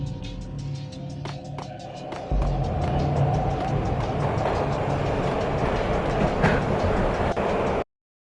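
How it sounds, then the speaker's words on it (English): Train ride in the Max Payne video game: a continuous rumbling rail roar with rhythmic clickety-clack of wheels over joints, growing louder after a couple of seconds and cutting off abruptly at the end. "This was my second train ride of the night."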